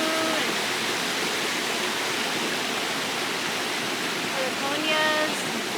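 Small waterfall spilling into a pretty pond at La Valentina in Lares, Puerto Rico, a steady close hiss of falling water with faint bird chirps over it.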